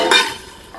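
A large metal pressure cooker is handled, giving one sharp metallic clink that rings briefly and fades, followed by a faint second touch near the end.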